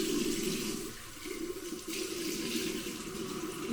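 Tap water runs in a steady, close, full-bodied stream during an evening routine, a continuous hiss and splash with a slight dip in flow partway through and no voices.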